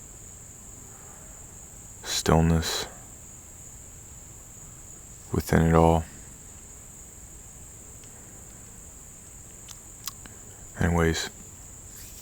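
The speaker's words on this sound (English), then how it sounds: "Nature is singing its song always, and it's beautiful every time, with all the crickets" Crickets chirp outdoors in nature, a thin, continuous high-pitched trill running steadily throughout, while a person talks in short, widely spaced phrases over it.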